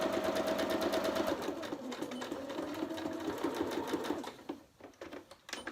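A sewing machine runs steadily stitching a seam on triangle bunting fabric, its rapid needle rhythm continuing before slowing and stopping in short bursts as it back tacks.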